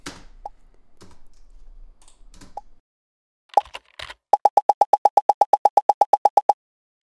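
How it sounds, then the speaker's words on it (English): A pop sound effect for an animated pop-up image: a few scattered soft pops and clicks, then a rapid even run of about twenty bright, identical pops close up, with no talking. "That means that the pop sound effect comes when it's when the marker or the image is at the biggest size"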